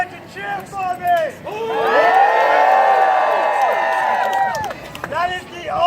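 Crowd cheering at jousting at the 2016 Minnesota Renaissance Festival: a loud, sustained swell of shouting and whooping voices for several seconds, with scattered calls before and after.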